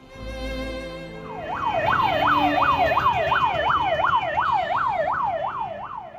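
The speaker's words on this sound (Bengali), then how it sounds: "যাদেরকে নিয়ে সাইরেন বাজিয়ে উন্নত চিকিৎসার জন্য কোনো এক মুমূর্ষ রোগী নিয়ে ছুটে চলেছেন অ্যাম্বুলেন্স" An ambulance siren wails in traffic, a loud, rapid up-and-down sweep that starts after a second and repeats steadily over the low rumble of vehicles.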